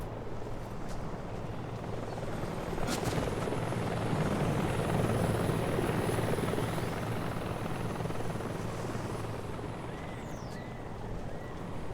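A helicopter in the stealth action game Metal Gear Solid 3 Delta: Snake Eater, a loud, steady rotor drone with constant low thumping that fills the whole stretch without letting up, with no voices over it.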